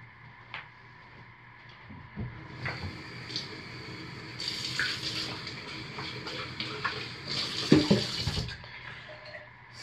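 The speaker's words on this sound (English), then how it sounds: "We'll slowly, carefully pour our lye water into our oils" Lye water is poured slowly into soap-making oils, a soft steady liquid pour building into louder splashy trickling, close and without talk.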